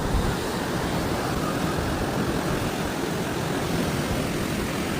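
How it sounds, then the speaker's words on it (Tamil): Strong water rushing through the Anaikarai dam, a dense, steady roar of turbulent flow that stays loud and unbroken throughout, with no voices over it. "தண்ணி எந்த ஃபோர்ஸில் போயிட்டுருக்குன்னு பாருங்கள்."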